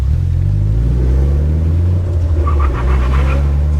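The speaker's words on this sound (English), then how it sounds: "He's doing a burnout." A Holden Commodore doing a burnout, a loud, heavy low engine rumble that holds steady throughout, with a faint higher whine creeping in toward the end.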